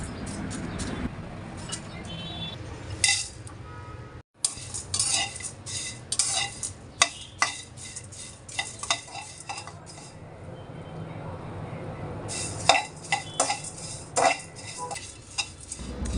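Dried fish frying in a pan is stirred with a utensil, giving repeated close scraping and clinking strokes in uneven bursts over a low background, with brief pauses.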